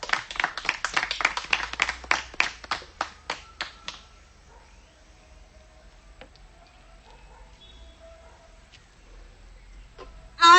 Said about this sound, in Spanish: Fuertes los aplausos para recibir a Rosario Pot Cajún.